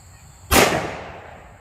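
One loud, close shot from a SIG 1911 Nightmare Carry Fastback pistol chambered in .357 SIG, a sharp crack followed by a long fading echo.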